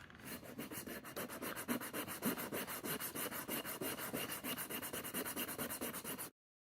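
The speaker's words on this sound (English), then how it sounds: "And start filing it down." A hand file rasps steadily against a small metal lock component from a 1980s Mercedes-Benz, fast even strokes close up and fairly loud, running continuously for about six seconds before stopping abruptly.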